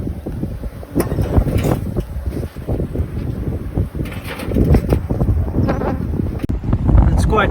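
Strong wind gusts at outdoor beehives covered with shade netting in a South African summer. The wind buffets the microphone in loud, rough bursts that rise and fall, with faint sounds in between.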